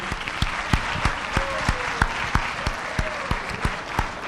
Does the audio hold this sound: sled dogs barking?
no